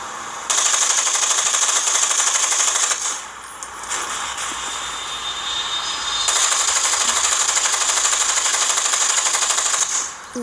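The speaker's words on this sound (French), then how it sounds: "Je vais tirer un petit peu partout." Gunfire in the video game Gangstar Vegas rattles in long dense bursts, a bright continuous clatter with a brief break partway through.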